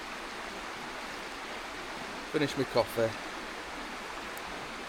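A stream flows past a tarp campsite with a soft, steady hiss in the background. A person speaks briefly over the water partway through.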